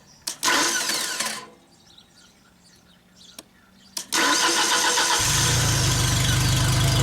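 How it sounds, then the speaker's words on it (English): A Genie lift cranked in a start attempt from the platform: two short bursts of cranking with a quiet stretch between, then a sustained run with a loud low hum setting in, close by. "I want to hear that fuel pump run"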